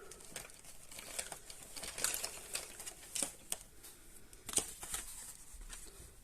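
Small scissors snipping through paper during a papercraft build of a candy-box locomotive wagon for an Advent calendar, giving sparse, light crisp cuts and rustles at close range, fairly quiet, with no voices.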